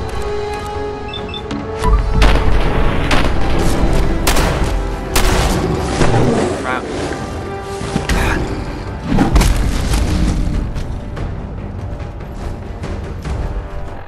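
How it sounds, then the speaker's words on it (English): Shotgun blasts from the video game Fallout 4, a series of loud booming shots with heavy thuds over a dense, busy game mix, strongest around two, six and nine seconds, with speech faintly present. "Try the shotgun, guys"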